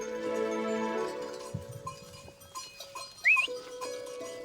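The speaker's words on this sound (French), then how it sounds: "Ce sont des brebis que je garde tous les jours" Ewes on the move along a hill path in the Cévennes give out a few bleats, with faint bells and shuffling in the background; the sounds are moderately distant and soft, with no talking.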